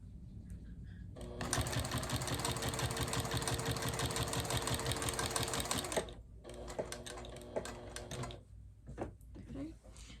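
A sewing machine runs steadily, stitching binding onto a quilt, a loud continuous motor whir for several seconds that stops, then short bursts of stitching follow with brief pauses.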